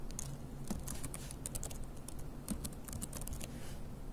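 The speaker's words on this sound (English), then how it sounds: "So, next thing is let's put the text in the boxes." Rapid, uneven clicking of keys on a computer keyboard as text is typed, quiet and close, with short pauses between bursts.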